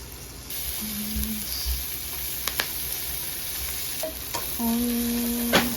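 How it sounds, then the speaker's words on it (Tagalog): Bitter melon frying in butter gives a steady, close sizzle with occasional stirring clatter and a few faint tonal beeps, with no talking. "Iluto tayo ng ampalaya."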